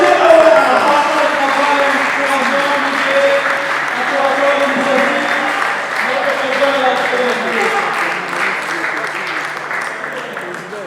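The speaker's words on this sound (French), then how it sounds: "sous vos acclamations, nous vous prions d'accueillir Abdul Boulala Chitouka, le président du Congo." An audience at the Congo Awards ceremony applauds and cheers a steady wave of clapping to welcome an honoree, with music and a voice sounding faintly beneath, holding at an even level before easing slightly.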